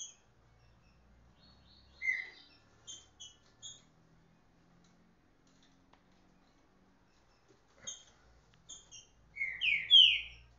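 Caged songbirds, trinca-ferro and coleiro seedeaters, give sparse, high chirps and short whistled notes in a quiet room. The calls come in scattered clusters with long pauses, and a louder burst of song arrives at the end.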